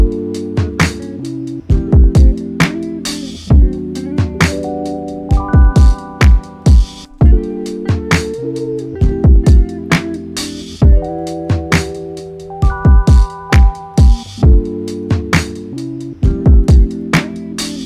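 Soulful hip-hop beat made in Ableton, with warm sustained chords and a guitar pitched down, layered over a steady drum groove with punchy kicks, playing loud and continuous with no voices.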